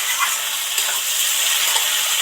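Okra and other vegetables fry in a pan for a Bengali okra chorchori, giving a steady bright sizzle with soft stirring clicks throughout, close and fairly loud with no voices.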